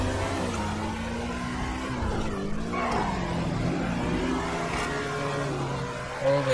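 A vehicle driving in the video game GTA V: a steady engine drone that rises and falls in pitch as the car moves, continuous and fairly loud with faint tire noise, and no voices.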